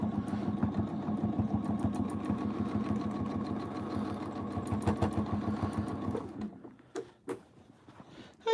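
Close, loud sewing machine stitching a quilt, a fast and evenly pulsing mechanical chatter that runs steadily for about six seconds, then stops, leaving a few scattered clicks and knocks.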